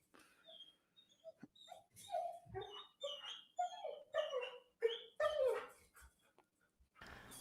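A spoiled pet dog whimpers and yips in a series of short, high, whiny bursts over about seven seconds. It sounds fairly close and fussy, like begging, and there is no talk over it.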